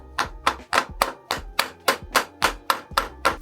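A rubber mallet taps a motorcycle fork plate on a Triumph Scrambler 1200, about a dozen evenly spaced dull knocks at close range with no talking.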